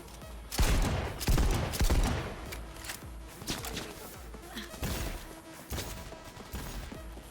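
Video game gunfire, bursts of loud sharp shots in uneven clusters, heaviest early and then sparser, close and punchy against a quieter background.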